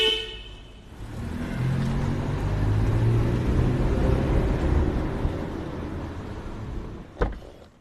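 An Infiniti car is driven on a test run after brake repair for squeaking, with a steady engine and road rumble swelling and fading, followed by a short sharp clunk near the end.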